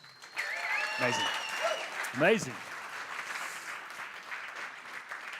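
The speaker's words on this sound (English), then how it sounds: "I reckon that deserves a round of applause, yeah?" Audience applause fills a full house at the third annual South African Startup Awards in Cape Town, a steady clapping wash that runs throughout while a speaker's voice rises briefly above it near the start.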